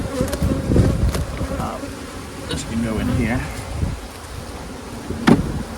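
Honey bees buzz steadily around a nuc hive, a dense swarming drone close by with individual bees zipping past, while someone talks over it.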